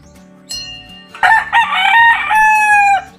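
A kelso gamefowl rooster crows loudly and close by, one long drawn-out cock-a-doodle-doo over a faint repeating background hum.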